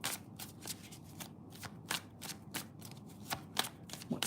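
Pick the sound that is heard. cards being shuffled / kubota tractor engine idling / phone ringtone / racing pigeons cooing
cards being shuffled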